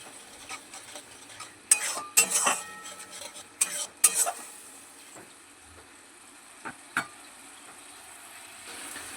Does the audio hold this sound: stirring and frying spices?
yes